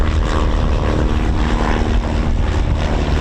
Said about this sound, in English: There we are, getting off the runway now.